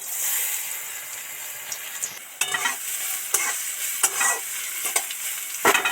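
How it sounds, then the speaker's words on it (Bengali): Washed moong dal fries in hot oil with dry red chilli for a fasting-day sago khichuri, a steady close sizzle broken by several sharp scraping stirs of the spoon, with no voices. "এবার এই তেলের মধ্যে ডাল মুগ ডাল ধোয়া মুগ ডালটা এর মধ্যে ছেড়ে দিচ্ছি"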